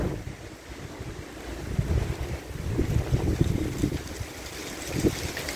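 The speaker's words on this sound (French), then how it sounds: "Le temps que la rafale arrive, il s'est écoulé une éternité." A mistral storm wind at 110 km/h in Saint-Rémy-de-Provence, roaring gusts buffeting the microphone and swelling louder midway, with no talk.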